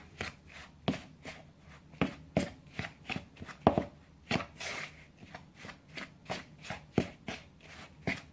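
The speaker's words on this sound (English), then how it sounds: "And I mix it up real good" Gluten-free zucchini bread batter, still dry and crumbly, is worked by hand in a bowl, making close, quiet rhythmic taps and scrapes about twice a second with no talking.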